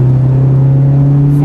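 A Honda Civic engine pulls under full throttle in third gear from about 3,500 RPM, a loud, steady droning hum that holds close and continuous throughout.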